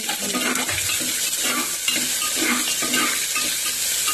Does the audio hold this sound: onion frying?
yes